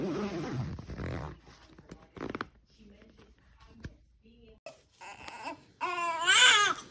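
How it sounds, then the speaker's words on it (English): A zipper on a baby bassinet cover is drawn shut in a few short rasping pulls, while voices murmur nearby and a child's cry rises loudly at the end. "you now have to replace the cover to zipper it back up"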